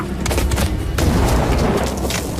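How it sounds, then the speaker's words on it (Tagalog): A loud, continuous boom of an explosion, dense and rumbling with crackling bursts layered over it, filling the whole moment without any speech. "Malakas na sumabog yun."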